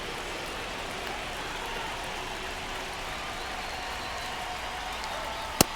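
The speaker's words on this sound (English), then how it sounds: "This rain is not letting up" Steady rain hisses across a ballpark in MLB The Show 25 during a Marlins game, a dense even wash that continues through the whole stretch, with one sharp click near the end.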